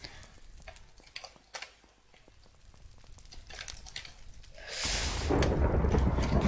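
In a Minecraft game, a lightning strike hits and rolling thunder follows, a loud, broad rumble that surges in after quieter crackling ticks and stays strong to the end.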